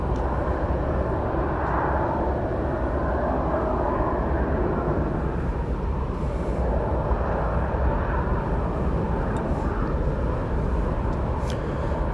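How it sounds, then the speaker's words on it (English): A Southwest Boeing 737-700 taking off from Dallas Love Field, a steady loud jet roar with broad rumbling noise that swells and eases slightly over twelve seconds, heard from a distance without talk. "Flight 278 to Burbank just took off. That's a 737-700."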